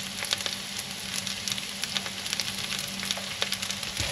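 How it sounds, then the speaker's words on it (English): Shredded red cabbage fries in a hot pan, giving a dense continuous sizzle full of rapid crackles and pops, steady and close, with no one speaking. "So now I want to fry this for a few minutes."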